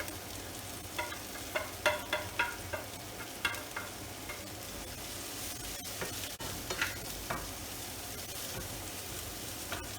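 Green pepper and mushrooms sizzle steadily in a pan for a vegetable Indian mushroom dish, with a run of stirring scrapes and clacks near the start, then continuous frying hiss.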